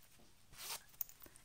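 Zipper on a hand-knitted garment, a single faint zip drawn for about a quarter second, then a few small clicks of the pull, close and quiet with no talk.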